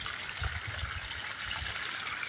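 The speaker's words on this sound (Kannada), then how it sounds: "ಇಲ್ಲಿ ನೀರು ಆನ್ ಮಾಡಿದ್ನಲ್ಲ" Water runs from a turned-on tap in a faint, steady hiss with soft splashing underneath.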